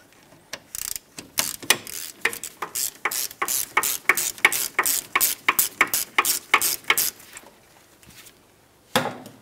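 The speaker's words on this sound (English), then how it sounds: "Fully remove the lower bolt." A ratchet backs out the lower rear brake caliper bolt on a 2009-2019 Ford Flex with a long run of crisp, close, rhythmic clicks that pause briefly and return once at the end.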